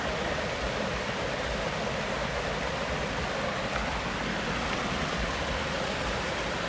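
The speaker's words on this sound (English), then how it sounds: "We've taken certain amount of the water from here, so the water falls in there" Water diverted from a river pours into a fish farm pond in Ghana, producing a steady, broadband rushing splash that holds constant and fairly close, with no voices.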